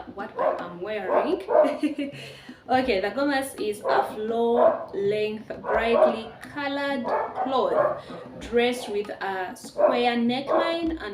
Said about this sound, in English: Excuse the dogs, they are chasing over the monkeys.